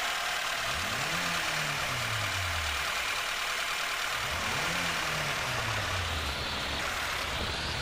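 A Lada Niva 2121 (VAZ-2121) engine idles in the off-road game SpinTires, a steady mid-low rumble under a constant hiss, with two drawn-out falling swells; no talking.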